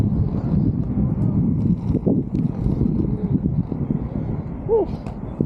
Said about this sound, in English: It's so windy right now too